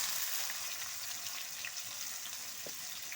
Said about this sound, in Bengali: এবার দিয়ে দিচ্ছি তেলের উপরে কুচানো পেঁয়াজ।